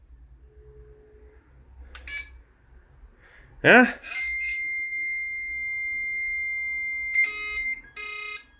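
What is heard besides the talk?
modem answering call beeping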